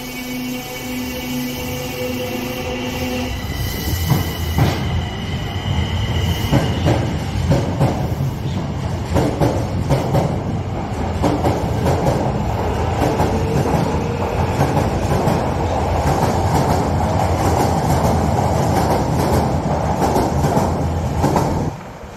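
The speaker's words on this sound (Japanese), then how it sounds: "到着の電車は難波天王寺我孫子方面中本行きです。" An Osaka Metro Midosuji Line subway train pulls into the station, its loud rumble and rhythmic wheel clatter building after a few seconds and holding steady, with a brief electronic tone at the start.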